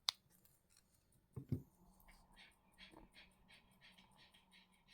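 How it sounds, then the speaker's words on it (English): Wire cutters snip thin weaving wire on a wire-wrap pendant, with a sharp click at the start and a couple of small snips shortly after, close but quiet among faint rustling and background noise. "Cut that weaving wire at both ends."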